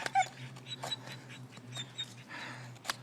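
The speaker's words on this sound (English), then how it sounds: "Tommy the trail dog is a little whiny today" Tommy, a trail dog out on a hike, whines and whimpers in short high-pitched bursts over a steady low hum, faint and close with no talking.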